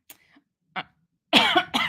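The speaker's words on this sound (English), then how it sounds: "the coughing, always with the coughing." A few faint short coughs, then two loud, harsh coughs close to the microphone, one after another.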